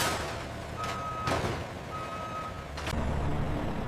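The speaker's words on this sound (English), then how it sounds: "Ready for their next destination, the bottles are carefully loaded onto waiting trucks." Trucks at a glass bottle factory during loading: a reversing beep sounds in two separated stretches over steady engine rumble, with short air-brake hisses and no talk.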